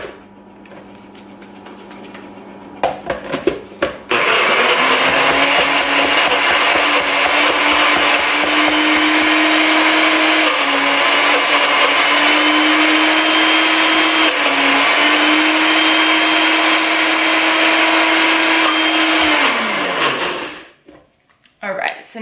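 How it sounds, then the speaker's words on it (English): A blender whirs through keto acai bowl ingredients, starting with a few short pulses before settling into a steady, loud motor drone that holds for about fifteen seconds, then winds down and cuts off. "and we just let it blend"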